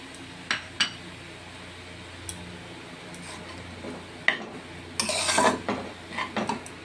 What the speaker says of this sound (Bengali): এবারে সেই ম্যাগি মশলাটা দিয়ে দেবো। এটা দিয়েও সুন্দর করে মেশাতে হবে।